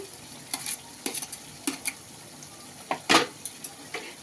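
Meat and tomato are stirred in a sizzling pan, a low frying hiss broken by sharp scraping spoon strokes in irregular bursts, close and clear.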